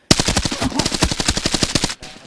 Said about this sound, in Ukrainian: І у нас там ще стріляють.